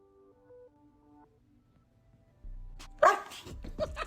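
A dog barks a few times close by, sharp loud yaps bursting out after a quiet stretch with faint tones.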